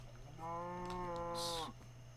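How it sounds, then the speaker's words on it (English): One drawn-out cow moo from a Minecraft-style video game in a snowy world, a single low tonal call lasting about a second over a steady background hum. "I heard a cow."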